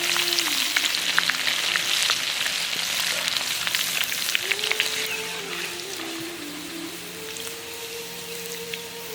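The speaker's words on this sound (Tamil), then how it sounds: "இந்த வெள்ளை பூண்டையும் எண்ணெயில போட்டு பொரிச்சு எடுத்துக்கலாம்." Crushed garlic with turmeric, salt and chili frying in hot oil for a homemade spicy mixture, a steady soft sizzle and crackle running evenly throughout with no one speaking.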